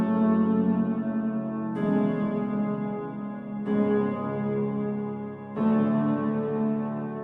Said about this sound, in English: so I added a very nice piano with some really sad chords like this.